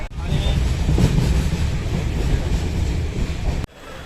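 An Udayan Express passenger train runs on the rails past a junction on the Mumbai to Bengaluru route, heard as a steady, loud rumble that ends abruptly near the finish.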